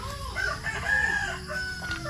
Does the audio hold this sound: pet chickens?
yes